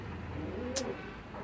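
Pigeons on a home pigeon farm, a low, soft cooing murmur in the background with one brief sharp chirp-like burst midway, faint and close to a steady low hum.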